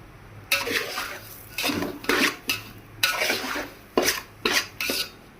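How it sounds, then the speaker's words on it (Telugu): Semolina roasts in a pan for kesari as a spoon scrapes and stirs it: repeated close, crisp scraping strokes in an uneven rhythm, fairly quiet, with no talk. "ఇప్పుడు బాగా ఎర్రగా వేగించుకోవాలి తక్కువ సెగలో ఫ్లేమ్లో పెట్టుకుని ఎర్రగా వేగించుకోవాలి"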